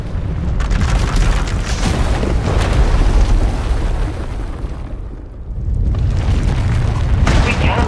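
A raging Force power erupts with a huge, sustained explosive roar in Star Wars: The Old Republic, its rumbling blast dipping briefly near the end before surging back, loud and continuous throughout.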